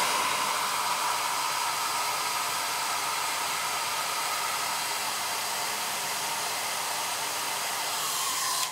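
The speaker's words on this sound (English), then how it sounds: "you can take your heat gun, warm it, and then peel it off" A heat gun blows steadily on a sticker to loosen it for peeling, producing an unbroken, loud airy hiss from start to finish.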